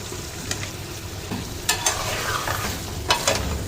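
Meat and radish curry fries in a pan while being stirred, a steady close sizzle broken by several scraping, clattering strokes of a spoon against the pan, with no talking.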